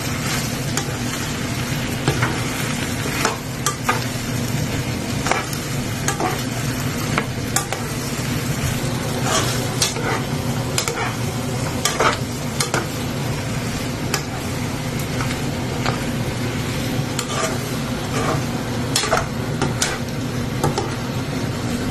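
Bottle gourd (upo) stir-frying with sardines in a pan, a loud continuous sizzle with frequent spatula scrapes and clinks against the pan throughout.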